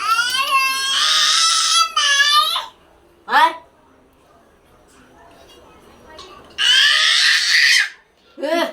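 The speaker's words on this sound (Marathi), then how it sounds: "ए किती ओरडतो तो चुप एवढा ओरडू नकोस" A young child wails and screams in loud, high-pitched bursts with brief pauses between, close by indoors, while an adult's voice cuts in between the cries.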